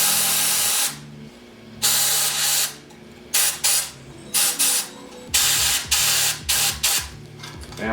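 Air squirted up a straw into an arcade coin pusher machine, several sharp hissing blasts of varying length separated by short pauses, close and loud over a low mechanical hum.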